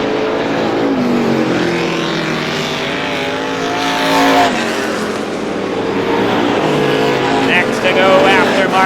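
Strictly Stock cars race in a main event at Star Speedway. A loud, continuous roar of several engines swells and fades as the cars pass close by.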